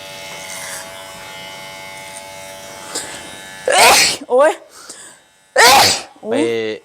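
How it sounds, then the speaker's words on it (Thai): A sneeze bursts out during a haircut over the steady hum of electric clippers, followed by a short second burst and bits of talk; the clipper buzz runs underneath throughout. "จามอ่า"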